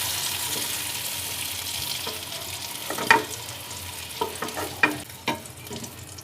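Potatoes frying in oil in a home kitchen while a mutton curry is prepared: a steady low sizzle with several sharp clinks and scrapes of a utensil lifting the fried pieces out.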